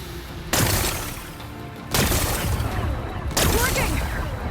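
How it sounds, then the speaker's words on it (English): Explosive shots blasting away rocks in Horizon Forbidden West, three loud booming bursts about every one and a half seconds, each trailing into crackling, rumbling debris, with a voice faintly audible beneath. "Gotta blast away some rocks, so I can expose the power cell."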